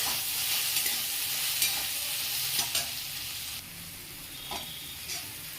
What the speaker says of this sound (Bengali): এরপরে আর একটু ভালো করে ভেজে নেব।